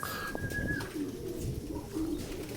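Pigeons in a racing loft coo in low, soft pulses, with a brief higher bird call near the start, over steady background noise.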